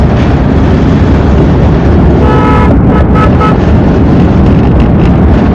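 Hyundai Santro Xing cruising on a highway in fourth gear: a loud, constant roar of engine, road and wind noise inside the cabin, with a brief tonal whine rising midway.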